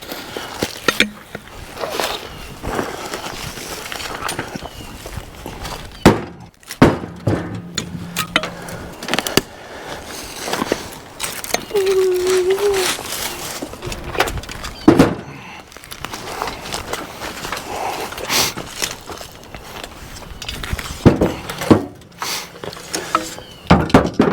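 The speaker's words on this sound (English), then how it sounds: "Let's throw these last few rounds in here." Firewood log rounds tossed into the bed of a side-by-side utility vehicle in a woodyard, a series of hollow wooden thunks and clatters at irregular intervals, loud and close, mixed with footsteps and handling noise.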